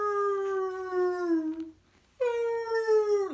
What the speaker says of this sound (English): a lot of wolves howling,